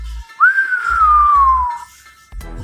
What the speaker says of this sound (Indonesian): Wiro keluarkan suara bersiul.